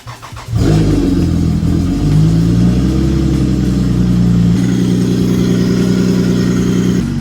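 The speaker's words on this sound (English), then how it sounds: "This is going to be a sick cold start though." A Lexus GS300 fires up from a cold start, a brief crank giving way to a loud, close engine that surges high and then settles into a steady, elevated idle.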